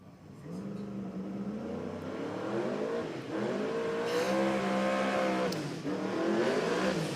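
A twin-turbo Valiant car engine revs hard at a street car event, rising and falling through several strong sweeps, loud and close with crowd noise underneath.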